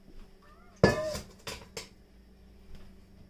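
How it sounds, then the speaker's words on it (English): A bowl is slid and set down on a kitchen counter while pork adobo is being cooked: one sharp clattering knock, then two softer bumps, close by in a quiet room. "Move my bowl over here."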